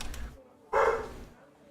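A puppy lets out a single loud, sharp bark close by, following a moment of murmured background talk, then a short fading tail.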